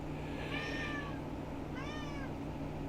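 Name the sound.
cat meowing loudly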